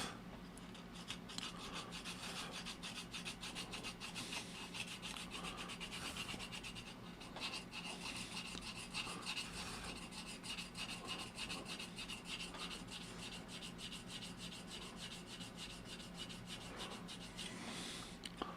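Steady, continuous rasping of a sanding stick rubbed back and forth over a styrene scale model, close and fairly loud, with no voices.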